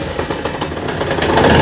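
A Yamaha TZR motorcycle engine runs at a steady, rough idle just after starting, loud and close, its pulsing mid-range drone filling the short moment without talk.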